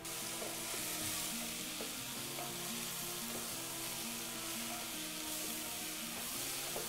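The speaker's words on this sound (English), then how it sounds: "So we fried off our onion and garlic. We've added in our veg." Onion, garlic and vegetables (red and yellow peppers, courgette, mushrooms) fry in a pot for a vegan goulash. A continuous sizzle runs under repeated light knocks and scrapes of stirring, close and steady.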